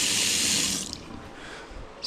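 A tap fed by a pressure pump runs in a house under construction in a Philippine village, a close, bright hiss of flowing water that cuts off after about a second, leaving faint residual trickle before a brief resurge.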